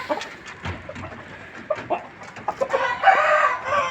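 Several clucks and short calls from a long-crowing breed rooster come in bursts, then a long loud crow rises near the end, close by and without talk.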